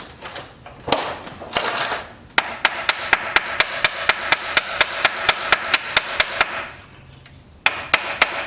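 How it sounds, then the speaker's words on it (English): A small hammer taps on a 1974 Ford Pinto engine in a steady run of sharp metallic knocks, close and distinct. A few scraping rustles come before the knocking, and after a short pause a final cluster of taps follows. "Let me get a small hammer."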